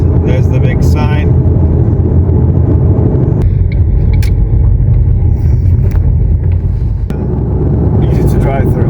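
A car drives along the road into Veliky Novgorod, giving a steady loud rumble of engine and tyres throughout, with a few brief higher noises over the drone and no audible voices.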